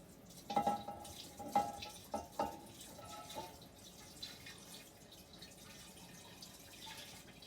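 Homemade orange liqueur (orangecello) is poured into a container, making a faint trickle with a few distinct drips early on that settle into a soft, steady stream of liquid.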